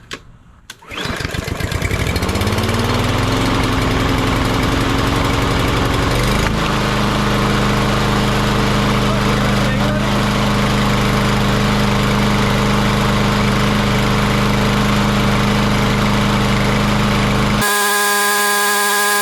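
A Troy-Bilt TB230 lawn mower engine, just flooded and being tuned up, sputters into life and then settles into a loud, steady, close running drone that holds for over fifteen seconds before it cuts off abruptly.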